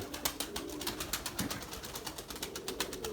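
Pigeons in a flock take off and fly overhead, a rapid fluttering of wingbeats with soft cooing, fairly faint and steady throughout.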